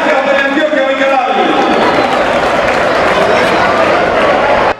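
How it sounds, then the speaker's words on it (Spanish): Loud stadium crowd at a Medellín football squad presentation cheering and applauding in a tribute to Teleantioquia, a dense continuous roar of clapping and voices with a voice briefly heard near the start. "aplauso fuerte"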